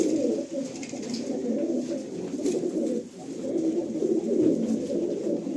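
Pigeons in a loft near an airport coo steadily in a dense, overlapping chorus, with a short lull partway through and no voices.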